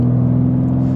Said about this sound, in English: And I love that exhaust note.